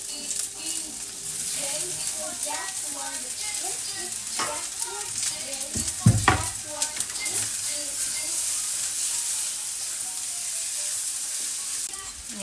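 Cooked ham sizzles steadily in a pan, a continuous close frying hiss with a brief stirring clatter midway and faint birdsong in the background.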